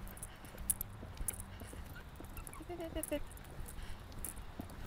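Horse hooves clip-clopping in a steady rhythm during a riding lesson on a pony, moderately close, with an instructor talking over them throughout.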